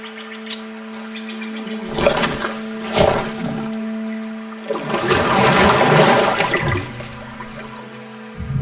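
Gurgling water in the video game The Last Campfire, bursts of churning, bubbling liquid rising and falling over a sustained tonal music bed, loudest in a long surge near the end.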